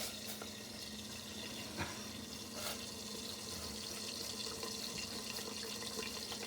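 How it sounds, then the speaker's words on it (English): Water pours into a pot of simmering potatoes and peas for a chicken curry, a steady close splashing and hissing stream with a faint sizzle beneath and no voices. "we're going to have to add a little bit more water to that so it can simmer"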